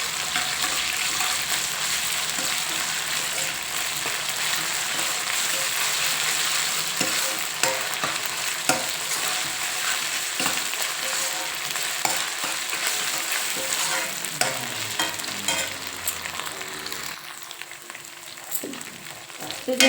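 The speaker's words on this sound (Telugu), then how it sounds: "జింజర్ గార్లిక్ పేస్ట్ వేగింది కదా మంచిగా" Ginger garlic paste fries with onions in a pan for a vankai aalugadda (eggplant and potato) curry, giving a steady, close sizzle and crackle throughout with occasional stirring scrapes and no talk.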